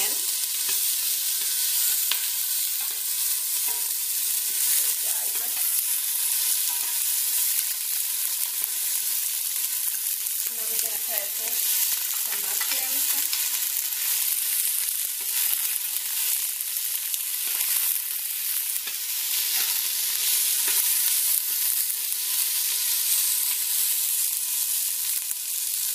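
Onion frying in a pan with crushed garlic, a dense, constant hiss of sizzling oil that holds steady for the whole stretch, with faint stirring scrapes underneath and no talking.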